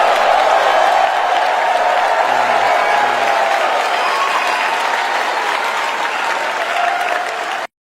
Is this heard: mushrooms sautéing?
no